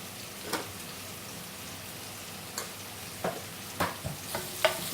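Turmeric and spices being stirred into fish curry frying in a pan, with a soft steady sizzle broken by scattered spoon scrapes and taps against the pan, close and fairly quiet.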